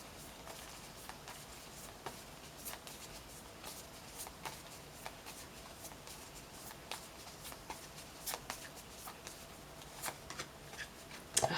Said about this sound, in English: So let's pull an affirmators card for you and see what your affirmation